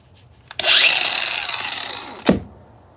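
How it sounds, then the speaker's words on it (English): A power grinder spins up with a sharp, loud whine, runs for under two seconds while slowly winding down, then stops with a clunk. "You hear a grinder?"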